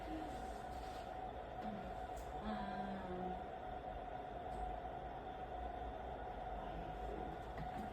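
A train rolls past on a nearby railway line behind a Pilates studio as a low, steady rumble that lasts throughout, heard indoors at moderate distance with no talk.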